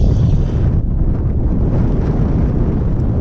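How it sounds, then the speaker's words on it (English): Strong wind buffets the microphone out on open water from a small boat, a steady loud broadband roar that holds for the whole stretch with a brief dip near the start and no talk. "Good time for the wind to pick up when I have to go pick whatever this is up."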